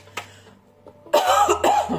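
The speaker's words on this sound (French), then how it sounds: "je suis désolée de vous tousser dans les oreilles" A single loud cough close to the mic, with a brief raspy throat sound just before it.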